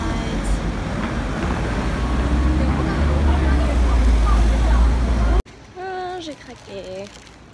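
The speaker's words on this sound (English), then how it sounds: "Or the subway." A subway train rumbles loudly and continuously, a deep steady roar with rail noise for several seconds, then cuts off abruptly and a voice speaks in a quieter room.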